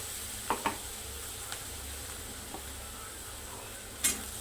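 Ground chili paste frying with onions in a pan, a low steady sizzle with a few sparse spoon taps and clinks, close but quiet.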